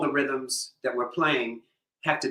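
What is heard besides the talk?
No distinct noise like a dog, phone or traffic.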